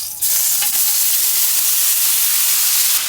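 Vegetables hiss and sizzle in a hot pan as a loud, steady, broadband frying noise that begins abruptly and holds close and unbroken, without talk.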